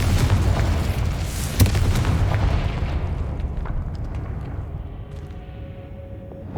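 A Confringo fire spell explodes in the game Hogwarts Legacy, letting out a heavy boom with a sharp burst, then a long rumbling tail that slowly fades.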